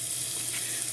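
Eight tablespoons of butter melting in a warm pot give off a steady, close sizzle with broadband frying hiss and a low hum beneath, unbroken and alone without any voices.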